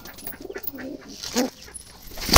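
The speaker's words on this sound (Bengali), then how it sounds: "জালালি বুনো কবুতর" Wild Jalali pigeons, a female among them, cooing softly close by in short throaty bursts, mixed with faint chirps and a brief rustle of movement at the end.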